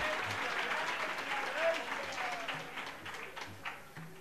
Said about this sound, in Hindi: एक बार अपने लिए दोबारा ताली बजा लीजिए